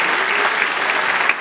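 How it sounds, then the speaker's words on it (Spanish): A brief burst of dense, sustained applause comes from the crowd at a children's folklore festival in Costa Rica, with scattered sharper claps standing out. "para ella ese aplauso de todo corazón"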